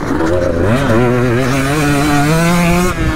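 A loud two-stroke motorcycle engine revs steadily, its pitch climbing and wavering for a few seconds before dropping off sharply at the end.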